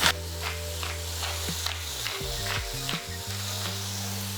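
Shrimp seasoned with salt and black pepper sizzling steadily in a frying pan, close and clear with occasional stirring clatter.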